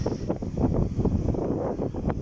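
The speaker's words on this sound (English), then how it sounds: "Sorry about the wind, folks." Winter wind on a pier at South Shields gusts straight into the microphone, making loud, continuous buffeting rumble with uneven pulses and no voices.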